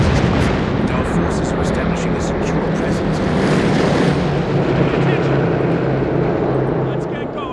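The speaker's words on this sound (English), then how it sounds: "let's call in some artillery" An artillery strike rumbles through a Company of Heroes 3 Italian campaign battle, a dense continuous roar of blasts and heavy booms that stays loud from start to finish, with no speech.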